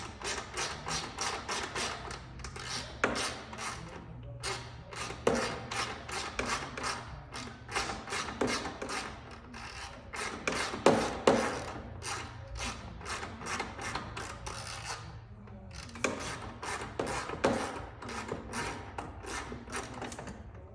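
Bolts being worked loose on the HMF full exhaust of a 2009 Yamaha Raptor 700R ATV, giving a steady run of rapid metallic ratcheting clicks with brief pauses, close and fairly loud, with no talking.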